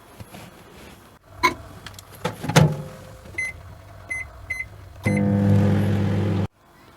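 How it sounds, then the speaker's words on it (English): A microwave oven heating a mug of water for macaroni hums steadily near the end, preceded by door clunks and several short beeps from the control panel. "Now we're going to take it to the microwave."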